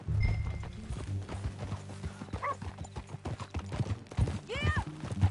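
Horse hooves clip-clop steadily in Red Dead Redemption 2, with a neigh near the end, under a low droning game soundtrack at moderate loudness.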